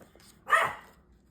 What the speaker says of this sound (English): My dog's on high alert because the ice machine made a noise